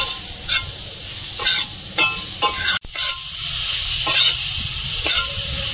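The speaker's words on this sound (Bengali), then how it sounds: "জিরে গুঁড়ো, ধনে গুঁড়ো, সব একসঙ্গে কষিয়ে নেব ভালোভাবে।" Ground cumin and coriander powder sautéed together in a pan, making a loud continuous sizzle broken by several scraping stirs and one sharp knock, with no talk.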